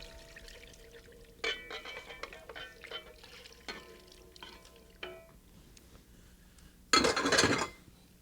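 Marinade is poured gradually into a pot of browned meat, flour and vegetables for a Gallic pot roast, with scattered light clinks and taps before a short, loud splashing pour near the end.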